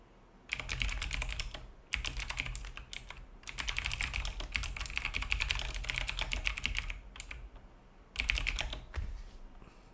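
Fast typing on a computer keyboard, close and clear, in dense bursts of clicking keystrokes with short pauses between them, no voices.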